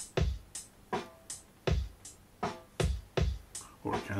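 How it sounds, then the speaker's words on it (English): An electronic drum module loaded with Alesis drum samples plays a steady beat, alternating punchy kicks and snappy snare or hat hits in an even rhythm, loud and alone. "Over here we have a drum brain, which is supposed to be used with an electronic kit"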